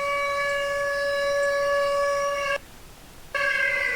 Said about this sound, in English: Oh no, it is an air raid siren.